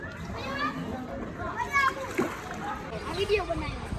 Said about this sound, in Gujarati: ઓલમોસ્ટ ભાઈ રતનપરમાં બધે પાણી છે, કારણ કે ખેરાડીનું તળાવ તૂટી ગયું છે